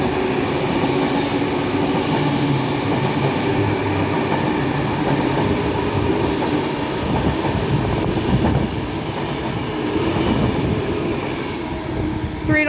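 A Class 390 electric train from Glasgow Central to London Euston rushes past close by, a loud sustained roar with rhythmic wheel clatter that eases off near the end.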